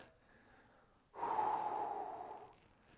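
One person takes a single long, audible breath through the nose while lying on a ball during a hip mobility exercise; the breath is close and steady, rising suddenly and then fading, with no talk over it.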